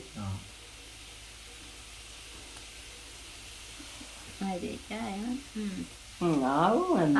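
Homemade sweets frying in a pan of hot oil make a steady, low, hissing sizzle, and partway through a voice starts talking close by over the frying.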